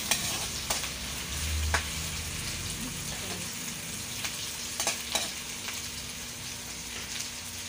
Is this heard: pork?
yes